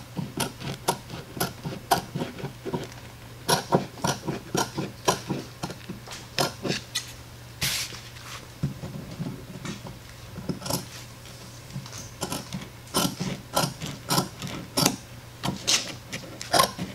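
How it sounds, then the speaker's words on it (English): A sewing machine stitches a half-inch tucked hem on boat cover fabric for a wakeboard tower, giving close, rhythmic bursts of ticking needle strokes with brief pauses between runs over a steady low motor hum. "We're going to create a 1/2 inch hem that we're going to tuck under and sew"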